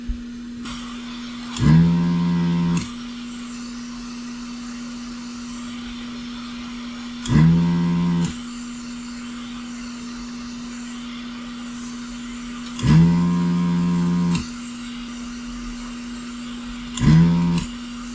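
A powered cleaning tool runs in short bursts through an EVGA 1000GQ ATX power supply unit under repair, whirring up in about four separate spurts of one to two seconds each over a steady background hum, close and fairly loud, without talk.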